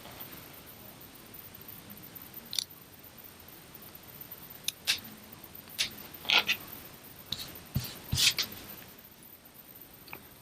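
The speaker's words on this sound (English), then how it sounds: "You want to cut towards the point without cutting through your stitches." Scissors snip through fabric at a placket point on a sewn bodice, a handful of small crisp cuts scattered over steady room hiss.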